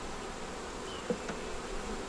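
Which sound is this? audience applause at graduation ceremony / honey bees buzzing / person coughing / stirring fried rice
honey bees buzzing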